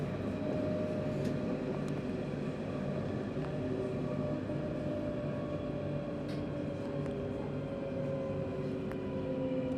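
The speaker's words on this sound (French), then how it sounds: "Accélération très forte avec ces Citadis 402 NG." A Citadis 402 NG tram on Lyon's TCL network accelerates hard, a steady loud rumble with a rising motor whine held throughout, no voices.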